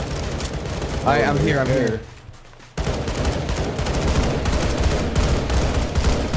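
Gunfire from HECU soldiers in a shooter game crackles in rapid bursts, with a brief pause partway through, and a short spoken phrase lands over the opening shots.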